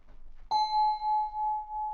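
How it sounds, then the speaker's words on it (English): Wine-glass preset played on a D-Lev digital theremin: one bright struck tone rings out after a brief pause, then sustains and slowly decays with a gentle, regular beating pulse, heard alone and close. "Percussive things are easy, like this is a wine glass."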